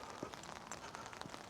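Steady rain patters on surfaces during a walk outdoors with an umbrella, a dense continuous hiss with scattered louder drops, fairly faint and with no talking.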